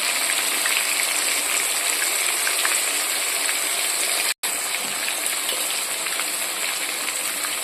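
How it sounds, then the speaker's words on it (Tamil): Water gushes steadily into a mixer jar as it is rinsed for a prawn pickle, a continuous close hiss and splash broken by one brief cutoff. "கொஞ்சமாக ஜாரை கழுவி சேர்த்துக்கலாம்."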